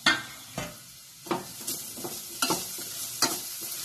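Grated sweet potato frying in ghee for a kheer, a gentle sizzle with a series of distinct stirring scrapes against the pan, close and fairly quiet.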